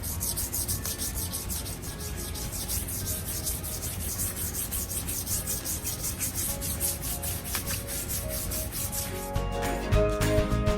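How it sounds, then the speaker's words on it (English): A wooden sofa table is sanded by hand with 220 grit sandpaper between finish coats, making steady rhythmic rasping strokes up close, shifting to a different scrape near the end. "Now I'm going to sand it down with some 220 grit sandpaper"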